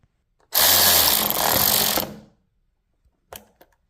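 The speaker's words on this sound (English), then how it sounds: "once you get the cover back on, you want to put your 4 screws back in." A power driver runs screws back into a Tesla Model Y carbon fiber steering wheel cover: one loud, steady whirring burst of about a second and a half, followed by a couple of faint clicks, close up.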